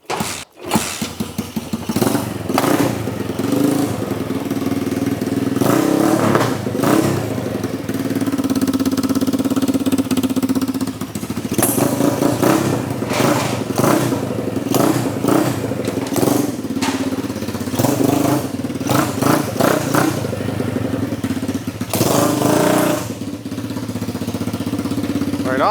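A Honda CT70 motorcycle fitted with a 90cc Lifan engine runs steadily and fairly loud close by, holding a constant idle with some revving and thumping throughout.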